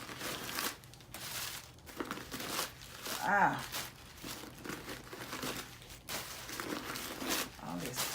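Packing paper crumpled and rustled while a clasp bag is unboxed, crinkling bursts running through most of the stretch, close and fairly loud, with someone talking over it.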